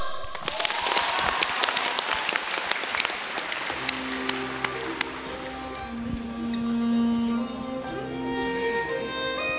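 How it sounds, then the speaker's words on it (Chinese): An audience at a Chen-style tai chi push-hands demonstration breaks into a round of clapping that fades after a few seconds as music and a voice take over, the applause moderately loud and indoor. "掌声"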